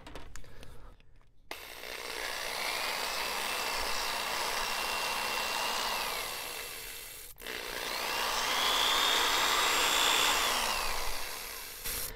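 A handheld power drill bores into control rod tubing during a Balsa USA Smoothie RC plane kit build. It whirs up, runs for several seconds, stops briefly, then runs again in a second, louder burst that winds down at the end.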